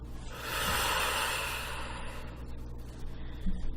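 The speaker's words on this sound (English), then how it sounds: "breathing out what you do not want, breathing out the wound." A long, slow breath out, breathy and hissing, fading gradually, followed by quiet room hum.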